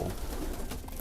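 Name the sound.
pigeons at a feeder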